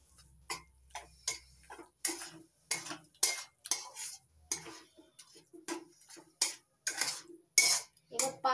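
A spoon scrapes and clinks rhythmically against a pan as sugar is mixed into a sweet mixture for manohara, a Janai-style mishti, giving sharp, evenly spaced metallic strokes with quiet gaps; no one speaks.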